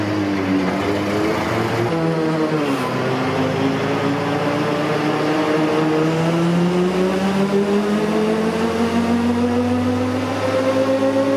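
A 1995 Toyota Hilux pickup with a turbocharged engine accelerates hard in third gear on a dyno, its engine note rising steadily and loudly with a droning, climbing pitch over about ten seconds.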